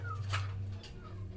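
A pet Labrador named Libby gives a short, close, thin whimper lasting about a second, with a faint low hum underneath.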